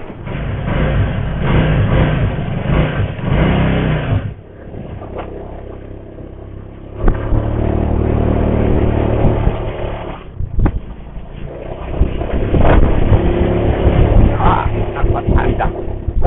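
A Honda Beat ESP scooter strains uphill with a faulty engine that drops out past half throttle, its droning engine rising and sagging in uneven surges, with a brief dip before revving again under wind noise.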